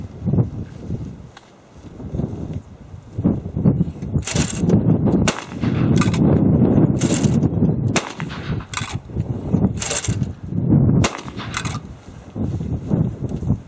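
A Browning B-80 12 gauge semi-automatic shotgun fires a string of loud, sharp blasts in irregular succession, close by and echoing outdoors, with no talking.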